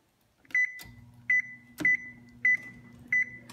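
Oven control panel beeps five times in a steady rhythm as it is set to warm, short bright tones close by over a low hum and faint clicks.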